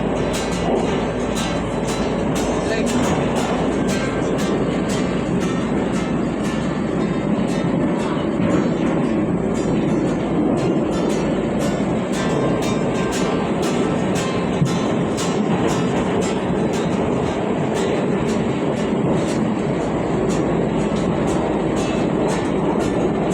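Rumbling interior of a moving amusement park train at Dreamland in Moscow, with a continuous close roll and rapid regular clicking from the wheels on the track, steady and fairly loud throughout.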